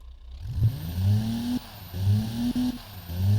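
A hypermiling car built for extreme fuel economy runs with a low, throbbing, tractor-like engine note, close and steady with slight rises in pitch, and no voices.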